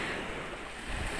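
Sea waves on a clean beach in Mersin, a soft continuous wash of surf with some wind noise, fairly faint and steady with no speech.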